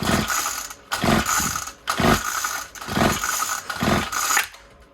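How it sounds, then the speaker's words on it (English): Repeated pulls of the recoil starter cord on a Troy-Bilt TB35EC string trimmer that will not run, five ratcheting zips in a steady rhythm, close and loud, with no engine catching. "hold the throttle wide open and give her a couple of tugs"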